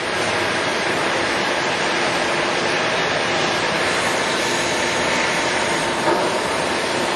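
A heavy-duty LeBlond 28.5-inch by 144-inch engine lathe turns its spindle slowly at 10 RPM with a 20-inch four-jaw chuck mounted, giving a steady, loud, continuous mechanical drone with broadband hum and no pauses.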